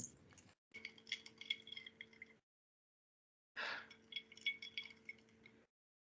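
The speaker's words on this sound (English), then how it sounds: "So I'm going to stir it a little bit. Just swirl it around." Lime margarita being stirred and swirled in a glass: two bursts of clinking, rattling glass contact, about two seconds each, separated by a short silence, close and fairly quiet.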